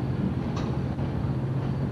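A freight train rolls past as a steady, loud low rumble with a faint whine and rail clatter, continuous for the whole stretch, with no voices.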